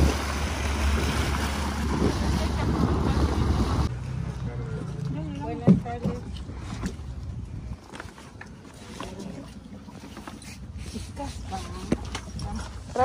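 A small boat crosses a cenote in Merida, Yucatan, Mexico. Louder rushing noise in the first few seconds gives way to quieter water sloshing and occasional knocks, with people talking nearby.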